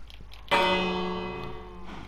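A bell in the Minecraft video game strikes once near a great wall, a bright clang with a long ringing decay that fades slowly over about a second and a half.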